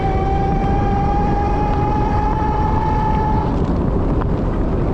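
A Mokwheel Obsidian e-bike runs at full throttle in eighth gear at about 28 mph, with loud steady wind rush over the microphone and a thin motor whine that rises slightly in pitch.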